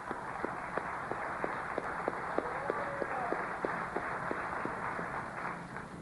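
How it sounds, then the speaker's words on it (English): A crowd applauds steadily, with a dense wash of clapping and some distinct rhythmic claps standing out. "Let's give our brother a round of applause."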